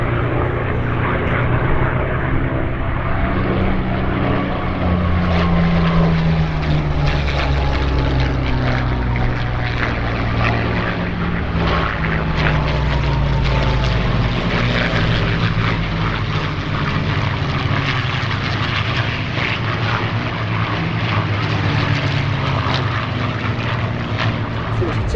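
A Hispano Buchon's Merlin piston engine drones loudly and continuously overhead at an airshow, its pitch slowly shifting as the plane passes, with a voice speaking faintly beneath it.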